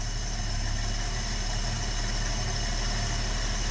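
A 1972 AMC Gremlin engine idles steadily, a low, even rumble with a constant hum and slight vibration, close and uninterrupted.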